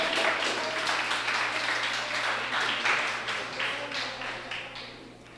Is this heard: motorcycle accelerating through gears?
no